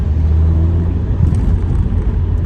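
Honda VTEC car exhaust giving a steady, deep low rumble throughout, close and fairly loud, with no talking over it.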